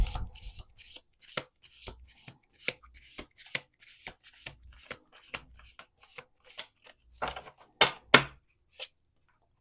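Tarot cards being shuffled by hand make a series of short, crisp riffling and slapping bursts separated by brief pauses, close to the microphone, with no talk.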